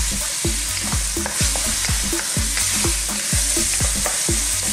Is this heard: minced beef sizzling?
yes